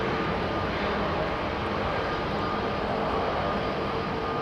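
Air Canada airliner at London Heathrow, a continuous steady jet rumble and hiss, even in loudness throughout with no voices.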